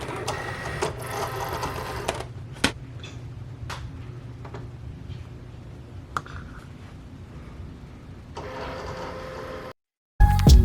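A cutting machine works through 3D puff iron-on vinyl, giving steady mechanical whirring with repeated ticks and clicks, loud and close, before a brief silence and a final burst of noise.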